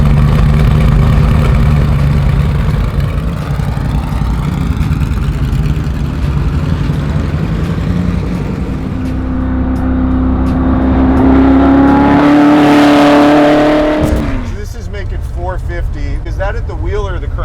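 A Ford GT40 V8 engine, a 302 bored and stroked to 347, idles with a deep, steady rumble, then revs up loudly in a rising roar before cutting back down.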